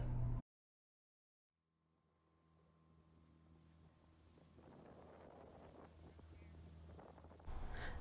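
After a moment of silence, a motor hum builds steadily beneath gusting wind noise as a dinghy runs across a lagoon in Saint Martin.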